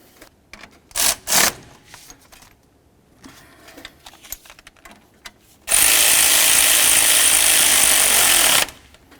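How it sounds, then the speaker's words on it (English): A ratchet snugs a nut on an intake gasket bolt of a Chevy C/K truck: two quick bursts, scattered clicks and handling noise, then a loud continuous whirring run of about three seconds. "Get that nut on there, snug it up."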